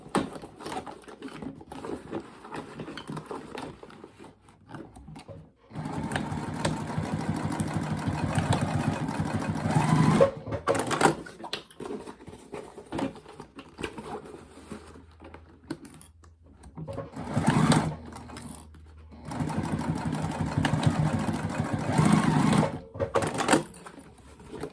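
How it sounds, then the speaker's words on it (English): Domestic sewing machine stitching across the box bottoms of a fabric bag with a quarter-inch seam, running in quiet whirring bursts with faint pauses between stitching runs. "now we need to go back to the machine and we're going to stitch across all 4 of these box bottoms"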